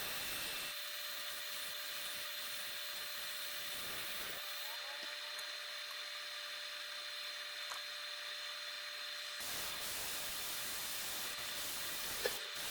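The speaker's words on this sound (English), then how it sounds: "A little bit of boring sanding." Sandpaper hisses against a wooden pine cone light as it spins on a lathe, a steady broadband rush over the motor's constant tone, easing off in the middle before picking up again.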